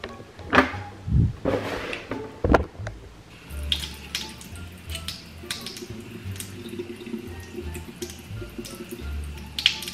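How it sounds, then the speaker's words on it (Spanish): Water is poured onto a home pregnancy test. A few close clatters and taps come first, then a thin running trickle with soft drips continues at moderate level, with no talking. "Vamos mejor a echarle agua."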